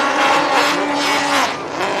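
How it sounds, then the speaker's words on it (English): GP class racing watercraft at a Waterjet World Series race, engines roaring past with a loud, rising and falling high-pitched whine that sweeps by close. "These GP boats sound angry out there."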